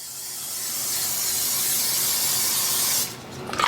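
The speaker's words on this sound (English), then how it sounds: "We don't want this to stick, so we're going to spray," Cooking spray misted onto a parchment-lined sheet pan for everything bagels, a steady close hiss lasting about three seconds before cutting off into quiet with a few faint clicks.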